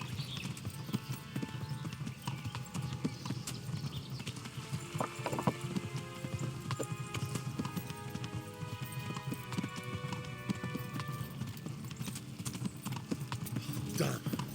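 Hooves clop at a steady walking pace throughout in the video game Kingdom Come: Deliverance, fairly faint, with occasional game sound effects and a soft horse snort in the background.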